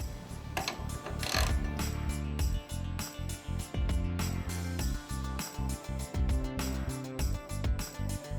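A ratchet works loose the two 1/2-inch bolts holding the battery cover on a 2014-or-later Harley-Davidson Street Glide, giving close, fairly loud stretches of quick clicking that stop and start, with no talking.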